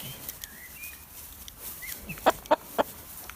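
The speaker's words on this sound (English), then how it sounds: "look at that chicken coming over that fence" A hen that has escaped over a fence clucks softly at first, then gives three short, louder clucks in a quick burst near the end, close by outdoors with no talk.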